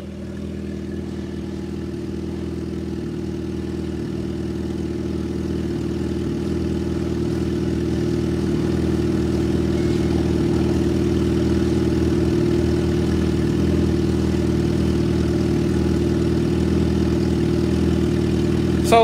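A liter-class naked motorcycle with its stock exhaust idles close by in a steady, deep, even rumble that holds level and rises slightly in loudness, with no talking over it.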